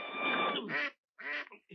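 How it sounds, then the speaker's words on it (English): A duck gives a few close, nasal quacks: one long raspy call, then shorter choppy bursts separated by brief silences. "Have you seen my duck?"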